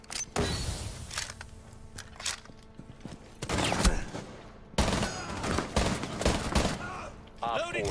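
SMG-11 submachine gun fire in Rainbow Six Siege, with several rapid close bursts broken by short pauses, mixed with footsteps and mechanical clatter.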